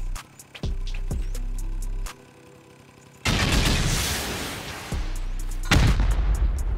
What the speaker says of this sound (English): just gonna start sending some rockets off here, and we'll try to HV rocket out the turrets